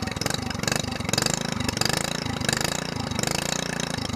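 An SPS longtail boat engine idles just after its first start following long storage, a loud, steady, rapid chugging with a rough mechanical rattle and no talk over it.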